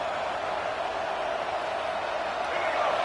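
A dense, steady roar of a large stadium crowd in EA Sports College Football 26 during a playoff game, distant and even, with no distinct voices standing out.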